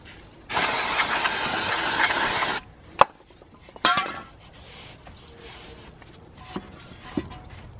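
Brake cleaner sprays onto the brakes of a BMW 1 Series in a loud, steady two-second hiss, followed by a few sharp metallic clicks and clanks from the brake work nearby.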